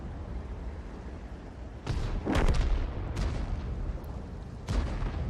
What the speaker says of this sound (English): He fires a round out on the Super Conqueror.